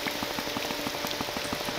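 Steady rain in the video game Morrowind patters on a surface, a dense, even spread of drops with faint rhythmic ticks, moderately quiet and continuous.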